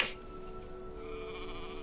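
Sheep in the video game Farewell North bleat faintly in the distance over a steady tonal game ambience, a thin wavering call with no speech.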